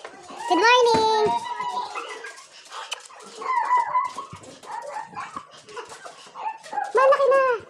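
Dogs at home, with vocal yelps and bark-like cries rising over a short burst at the start and again near the end, mixed with excited children's voices and chatter in between.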